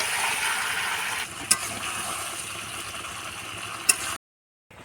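Chicken curry sizzling as it is sautéed in a pan, a steady dense frying hiss with two sharp spoon clinks against the pan, before cutting off abruptly to silence near the end.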